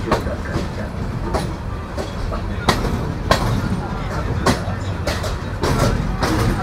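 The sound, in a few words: train departing Santahar Junction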